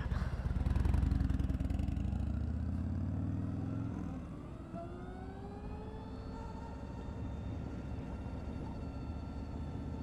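A 2020 Harley-Davidson LiveWire electric motorcycle accelerates hard. A rumbling surge gives way to a rising, high-pitched electric motor whine that climbs steadily and stays close and loud.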